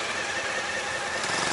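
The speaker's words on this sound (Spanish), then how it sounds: "Es una moto." A motorcycle on a Mexico City street hums past with a steady engine drone over busy traffic noise, fairly close and even in level throughout.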